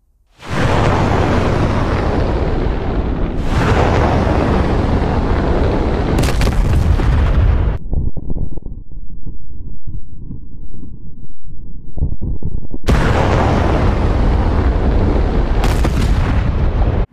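Long roaring rumbles of missile launches and explosions in the DCS flight simulator, loud and continuous with several abrupt booming onsets and a muffled stretch in the middle.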